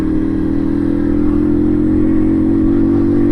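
1984 MZ TS125 two-stroke motorcycle running at high revs, past 6,000 rpm in fourth gear at about 60 mph: a loud, steady, buzzing engine drone held constant from start to finish, mixed with wind rush.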